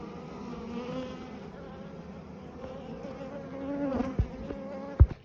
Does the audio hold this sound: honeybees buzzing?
yes